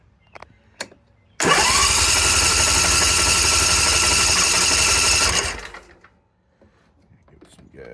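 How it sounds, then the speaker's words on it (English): A Briggs and Stratton small engine with a newly replaced fuel pump and fuel line cranks and catches, roaring loud and steady for about four seconds before winding down to quiet, with brief clicks before it starts. "Give it a crank."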